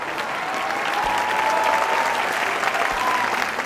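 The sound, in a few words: applause, clapping for the tractor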